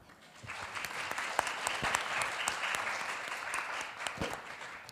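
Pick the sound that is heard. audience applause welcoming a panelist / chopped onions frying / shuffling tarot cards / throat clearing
audience applause welcoming a panelist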